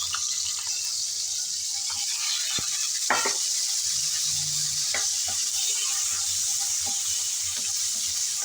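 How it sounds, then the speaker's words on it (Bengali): Shrimp dropped into lightly heated oil in a pan on the stove, giving a steady, close hiss with a few scattered clicks and stirring taps. "সেই গরম তেলে দিয়ে দিলাম চিংড়ি।"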